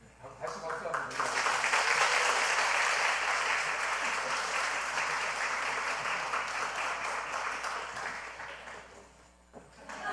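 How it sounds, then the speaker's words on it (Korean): Congregation in a church applauding warmly during a new-members graduation and baptism service, a dense steady clapping that swells quickly, holds for several seconds, then tapers off near the end. "다시 박수 한번 드려요."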